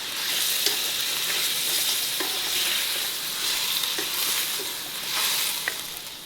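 Mutton pulao masala with tomatoes and yogurt sizzling in a pot, a continuous bright hiss broken by repeated spoon scrapes and light knocks, close with no voices.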